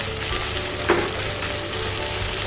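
Chicken and potato pieces fry in oil in a pan and are stirred now and then. A steady, dense sizzle continues throughout, with a single scrape of a stir near the start, and no one speaks.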